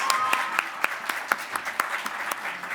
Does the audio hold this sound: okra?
no